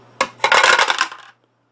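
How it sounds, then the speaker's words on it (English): Three dice tumble through a plastic dice tower during a Zombicide board game, making a quick, loud rattling cascade of clacks that lasts about a second and then falls silent. "Here we are at the dice tower again. Let's roll it."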